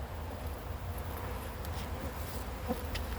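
Honey bees hum around an open beehive, a continuous close drone of many wings with a steady buzzing texture and occasional louder passes of single bees, no speech.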